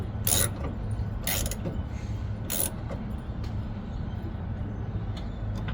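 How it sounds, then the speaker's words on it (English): Self-tapping screws are driven into a 1977 Cordoba, with three short, sharp mechanical bursts near the start, then a quieter stretch of low rumbling workshop background. "the tornillos or the screws just make their own thread."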